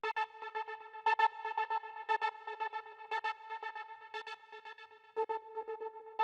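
A gated pad synth from the Sylenth plugin's Gate Trance preset, part of an amapiano beat remake in FL Studio, plays alone as a bright sustained chord chopped into fast rhythmic pulses with occasional accented stabs.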